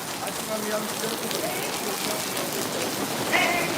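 Heavy rain pours down in a dense, constant roar, with faint voices murmuring briefly in the background near the end.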